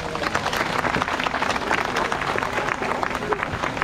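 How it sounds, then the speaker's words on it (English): Spectators at the sea lion show at Pleasurewood Hills, Lowestoft, Suffolk, give a round of applause: steady, bright clapping from a crowd seated around the pool, moderately loud and continuous, with faint crowd murmur underneath. "they'll give you a big round of applause."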